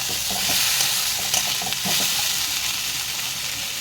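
Tomato and spices frying in a pan while being stirred, a steady close sizzle and hiss with scraping stir strokes throughout, no talk.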